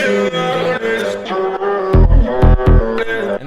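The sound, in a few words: EDM track with all the stacked vocals together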